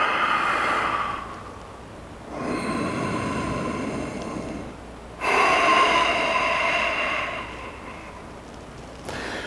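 Deep yoga breaths taken slowly in and out, each long airy inhale and exhale swelling and fading over several seconds, close to the microphone with no talk.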